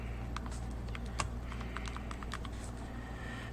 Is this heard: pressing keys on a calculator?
yes